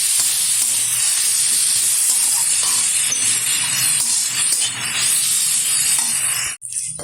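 Boiled chicken filling cooks on high heat in a pan, giving a loud, steady sizzle and hiss with faint stirring clinks. It runs almost unbroken before a brief cut near the end.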